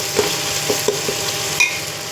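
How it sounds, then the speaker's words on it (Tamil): Tomatoes sauté with salt in a pan for beef biryani. A soft sizzle runs underneath, and several spoon stirs and scrapes tap against the pan at uneven intervals. No one speaks. "இப்போ நல்லா நான் வந்து இதில் வதக்க போகிறேன்."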